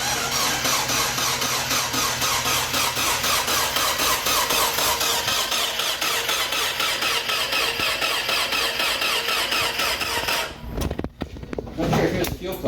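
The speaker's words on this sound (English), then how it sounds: "I think we're just about ready to fire it up" A rebuilt 1.8-litre Mazda Miata engine cranks steadily on its first start attempt, a loud, continuous rhythmic churn lasting about ten seconds before it stops abruptly, followed by brief faint rustling.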